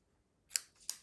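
Scissors snip through a length of tricolour ribbon for papercraft, giving two quick, faint, crisp cuts about a third of a second apart in an otherwise quiet room.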